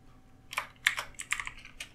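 Quick bursts of typing on a computer keyboard while entering code, with a few clustered keystrokes that sound close and fairly quiet.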